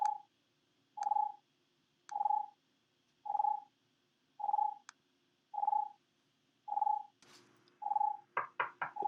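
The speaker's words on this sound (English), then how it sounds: "That's the sound of my phone ringing." A phone rings nine times in an even pattern of evenly spaced, clear tonal beeps roughly once a second, then a louder burst of rapid chirping notes at the end.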